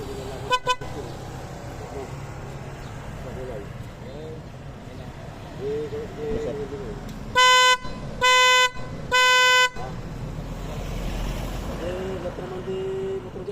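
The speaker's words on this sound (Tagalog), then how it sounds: "Busina, busina." Voices talk near a motorcycle as its modified horn gives three firm, evenly spaced honks, with a brief short beep early on.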